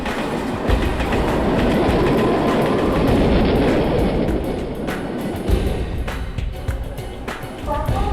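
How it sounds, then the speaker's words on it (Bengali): A train rolls into a station platform, its wheels clattering loudly and steadily over the rails, fading slightly toward the end as a few sharp clanks come through. "কোলাপাটনা ভায়া নাসিক যাওয়ার ট্রেন 3 নম্বর প্ল্যাটফর্মে আসছে।"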